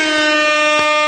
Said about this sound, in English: And some air horns for Andrew.